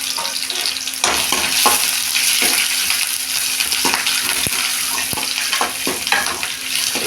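Ground onion paste sizzles steadily in hot oil for a brinjal curry, with a loud continuous frying hiss broken by occasional spoon scrapes and stirs, no voices.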